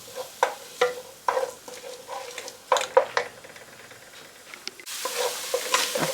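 Freshly chopped seasoning sautéing in butter in a pan, heard as a close crackling sizzle punctuated by sharp clacks of a utensil stirring and scraping, the frying growing louder and denser toward the end; no talking.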